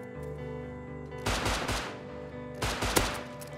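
Gunfire in the survival game Rust: two short bursts of rapid shots, each lasting about half a second, ring out fairly faint over a steady droning hum.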